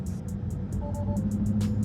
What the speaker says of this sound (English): and then even when I let off, it's just giving me these beeps.